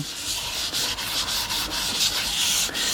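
Gritty abrasive compound smeared and rubbed by hand over a wooden bowl, making a continuous close scouring hiss with slight pulses of pressure and no talking.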